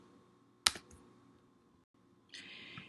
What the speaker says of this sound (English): now you can start typing in that text box